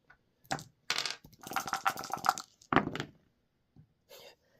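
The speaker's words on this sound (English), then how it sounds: "Has to roll defense dice normally" Dice for a Heroscape board game defense roll clattering onto a table, several sharp rattling bursts separated by short pauses, close and with no talk.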